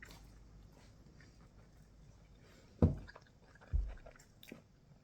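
Crispy nem spring roll being eaten, with two loud, close crunching bites a second apart over quiet chewing and a low background hum.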